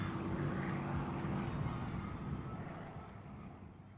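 A propeller airplane at an airshow flying an 8-point hesitation roll, its engine a steady broad drone that holds loud and then slowly fades over a few seconds, with no talk.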